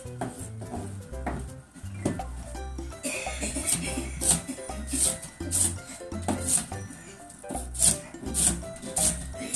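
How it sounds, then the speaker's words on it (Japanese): Kitchen knife chopping carrots and onions on a board, producing repeated quick, near cuts with a steady rhythm over a low backing of music. "人参と玉ねぎ切りました"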